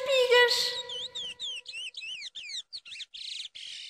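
Small birds chirp and tweet in a quick series of short, bright calls, fairly close and clear, after a brief opening burst of voice.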